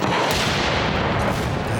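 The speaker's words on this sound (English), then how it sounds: "Only a matter of seconds now before the explosion." A caravan blown apart by ignited propane gas: a loud, sustained broadband blast roars continuously with no quiet gaps, close and powerful.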